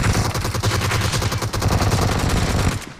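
A P90 submachine gun fires in a video game shooter match, a loud, close, unbroken stream of rapid automatic shots lasting nearly three seconds before stopping.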